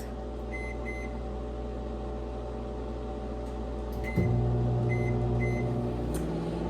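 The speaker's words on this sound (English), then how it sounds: "place this side down in the microwave for 7 minutes" A microwave oven runs with a steady low hum and fan whir, a few soft beeps, then a louder, deeper drone kicks in partway through as the magnetron cycles on, continuous and close by with no talking.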